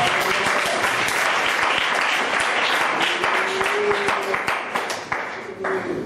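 A church congregation applauds in a steady, dense wash of clapping with a few voices rising over it, holding loud throughout before thinning slightly near the end.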